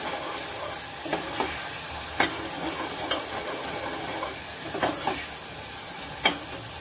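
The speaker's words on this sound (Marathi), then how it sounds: "आता हे वाटण जे हिरवा आहे ते आपण छान असं तेलामध्ये परतून घ्यायचे आपल्याला।" Green masala paste sautés in oil for a mixed vegetable dish, giving a steady sizzle with occasional spatula scrapes and clicks against the pan. No one speaks.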